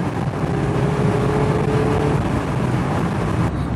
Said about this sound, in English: Listen to that engine. Induction noise, exhaust noise,